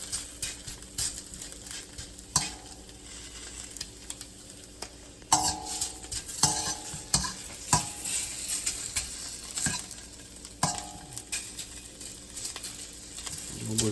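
Chicken and shrimp stir-fry for chow mein, steady sizzling under repeated scraping stirs and occasional clinks of utensil on pan, close up with no talk.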